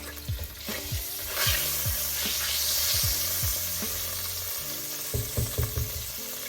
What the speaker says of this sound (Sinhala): ඊට පස්සේ කුරුඳු, කඳු මුංගු, කරාබුන ටිකක් එකතු කරගත්තා.